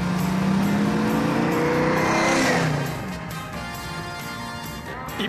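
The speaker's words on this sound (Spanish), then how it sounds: "Este auto tiene un gran sonido." A car engine revs loudly, the pitch rising and then falling away as it drives off, with a faint hint of tire noise and the engine receding to a quieter idle-like hum.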